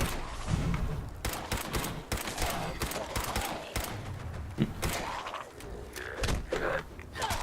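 Video-game gunshots crack in quick irregular bursts, fairly close and punchy, scattered through the stretch with no speech.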